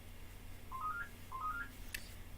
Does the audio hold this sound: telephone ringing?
yes